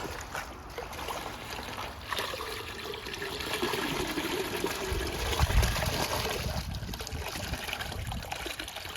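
Water carrying trout poured from a container into a hatchery pond, a steady splashing gush that swells midway, close and fairly loud, no talking.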